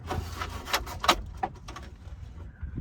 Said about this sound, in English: we should be able to go ahead and slide off the climate control unit